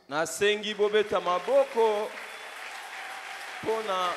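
A church congregation claps and cheers in acclaim for a woman called Maman Viviane. A steady wash of applause rises under and after a voice speaking over it.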